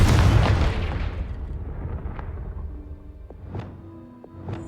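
Confringo blasting spell in the Hogwarts Legacy game: a loud, deep explosion at the start that rolls and decays over several seconds, with a few sharp pops and ringing tones following.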